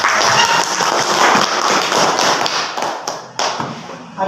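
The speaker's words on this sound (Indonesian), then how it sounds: "kita beri aplaus untuk" Students in a classroom give a short burst of dense applause for a classmate, the close clapping fading slightly toward the end with a few louder individual claps.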